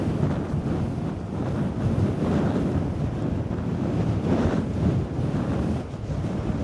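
Waves crash in at high tide during Storm Lilian along a headland, heard as a loud, continuous roar with surging swells, mixed with heavy wind buffeting the microphone.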